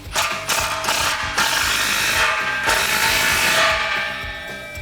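A clamp on a Mustang GT Fastback exhaust tip is tightened with a ratchet, giving a steady run of close, loud metallic clicks in quick repeated strokes with short pauses between bursts.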